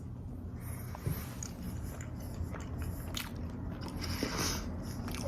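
Someone bites into and chews a pumpkin pie cookie from Crumble, with close, crunchy, steady chewing and no talk.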